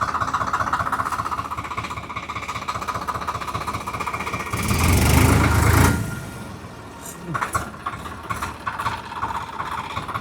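Loud, steady engine rumble of a Swaraj 855 tractor with a mechanical rattle, swelling briefly into a heavier roar as the pedal is pressed before settling back down.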